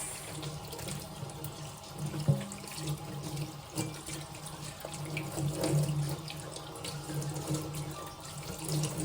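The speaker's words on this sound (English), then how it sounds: "This is when I use hot water." Hot tap water runs steadily into a kitchen sink while a whole chicken is being cleaned under it, the stream splashing and shifting as hands move through the flow, with no talking.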